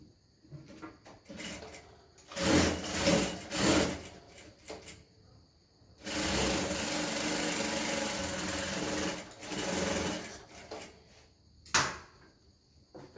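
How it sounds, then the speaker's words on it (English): A sewing machine stitches darts in fabric for a gown, running in two bursts of steady whirring separated by quiet pauses and small handling knocks, close by. "so I'll start sewing from there"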